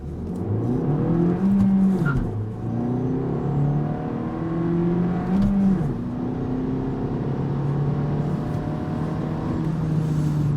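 A Suzuki Swift Sport with a manual gearbox accelerates hard from 0 to 100 km/h, engine note climbing through the revs with distinct drops at each gear change, heard from inside the car, loud and continuous.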